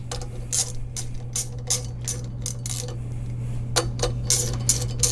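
Sprocket bolts on a Puch Maxi moped wheel being tightened in a star pattern: close, sharp ratcheting clicks in short bursts with brief pauses between, over a steady low hum.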